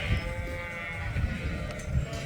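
Suffolk ewes bleat at a sheep shearing in May, several low bleats over a steady background hum, moderately close and fairly quiet.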